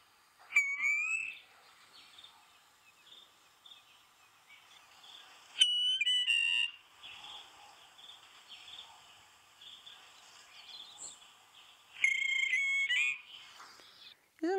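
A recorded bird call plays in three loud bursts of whistled, warbling notes, spaced several seconds apart, with a faint steady hum between them during a sunrise safari broadcast.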